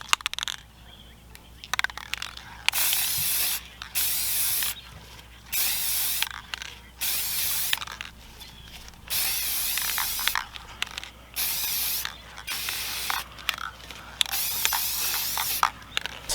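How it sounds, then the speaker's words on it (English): Short hissing bursts of spray sealant coating a glitter tumbler, about ten close, even pulses separated by brief pauses. "give it a good spray, the entire tumbler all over it, just like you would while you're spray painting a tumbler."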